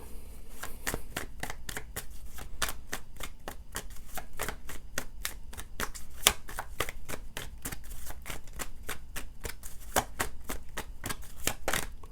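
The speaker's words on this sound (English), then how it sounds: "Spirit will give me a sign when it is time to stop shuffling" Rapid riffle-shuffling of tarot cards, crisp papery bursts repeating steadily and close up for the whole stretch, with no talking.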